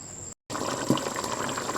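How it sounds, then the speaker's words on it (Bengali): Meat boiling in a pot of hot water, a steady low bubbling and gurgling that runs after a brief silent gap, with one slightly louder blip partway through. "মাংসটা সিদ্ধ হয়নি, কিছুক্ষণ সিদ্ধ করতে হবে।"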